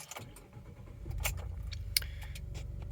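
A Ford Expedition is started, with a brief jangle of keys and a cranking catch near the start, then the engine settles into a steady low idle that runs on alone.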